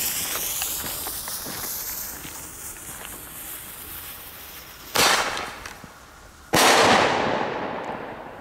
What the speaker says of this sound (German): das sind gute Böller